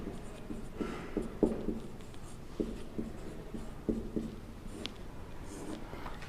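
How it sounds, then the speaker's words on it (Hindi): A pen or marker writing during a poem lesson, with a run of short, scratchy strokes and taps in an uneven rhythm, close and fairly quiet, with no speech. "यहां लिख देता हूं मैं परफेक्ट का मीनिंग।"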